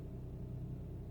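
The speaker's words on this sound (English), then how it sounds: "Very smooth startup when the engine is running and at idle. It's very quiet, you barely notice it's on." A 2018 Ford Fiesta Mk8 with a 1.0 EcoBoost engine idles quietly in an empty parking lot, a soft, steady low hum with a faint rhythmic pulse and nothing else over it.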